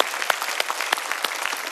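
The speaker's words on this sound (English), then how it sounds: "give yourself a round of applause" Luncheon audience applauding together, a dense steady patter of many hands clapping with sharper individual claps standing out, fairly close and loud, with no talking.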